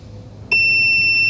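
An electronic device gives a sharp, high-pitched beep that sounds once and holds steady, with a faint pulse after it, over a quiet low hum.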